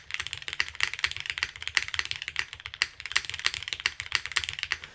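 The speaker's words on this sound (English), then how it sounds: "I know the F keys are making noises, but I just wanted to see what they sounded like." Rapid, steady typing on a tenkeyless mechanical keyboard, dense clacky keystrokes close to the microphone with no talking.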